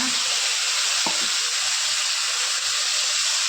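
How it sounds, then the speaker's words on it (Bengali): Aar fish bhuna sizzles loudly and steadily in hot oil with onion paste and ginger-garlic paste, with one brief utensil knock near the start and no talking. "আর মাছটা ভুনা করে নেব"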